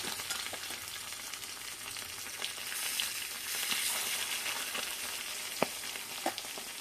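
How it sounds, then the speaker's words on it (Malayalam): Threadfin bream (kilimeen) coated in masala fries in a pan with a steady, close crackling sizzle throughout, plus a few sharper pops and spatters near the end. "മീൻ വറക്കാം"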